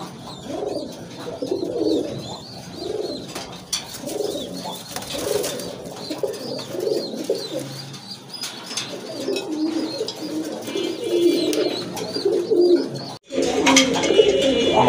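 Several pigeons for sale, including a black-and-white pair, coo in repeated throaty rolls at close range throughout, with brief soft bird chirps and a short gap near the end.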